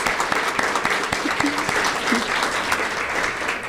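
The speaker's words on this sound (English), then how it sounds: "Give them a round of applause." Warm audience applause at a scholarship appreciation luncheon, a steady dense patter of many hands with a few sharper claps close by and faint crowd voices mixed in.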